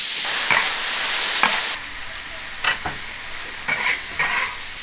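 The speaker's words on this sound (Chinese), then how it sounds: "腊肉下锅煸哈" Cured pork stir-frying in a wok, a steady hiss of sizzling fat with several scraping stirs of the spatula breaking through, close up and loud, the sizzle easing partway through.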